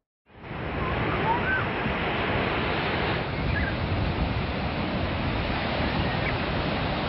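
Big, rough Black Sea waves and surf roll in at Mamaia beach on a windy day, a loud continuous roar of breaking water with wind buffeting the microphone.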